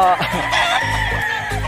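Fighting roosters kept as gamecocks in cold weather crow and cluck loudly up close, several short calls overlapping in quick succession.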